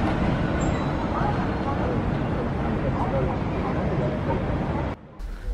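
A Sapporo streetcar runs along street-level track, its steady rolling rumble and traffic-like roar filling the interior continuously before briefly dropping away near the end.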